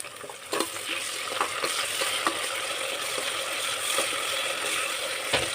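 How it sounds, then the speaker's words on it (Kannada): Chillies and fenugreek leaves frying in a pan, a steady sizzle with repeated scraping and stirring clicks of a utensil throughout, close and fairly quiet. "ಒಂದು 2 ಮಿನಿಟ್ಸ್ ಫ್ರೈ ಆಗಲಿ."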